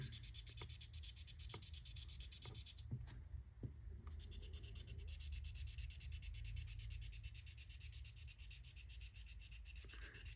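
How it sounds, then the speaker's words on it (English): A GodHand sanding pad rubs over the roof of a 1/24 scale Nissan 370Z wagon model during wet sanding, giving a faint, continuous scratchy scrubbing with a few light ticks near the start. "I love these sanding pads from GodHand"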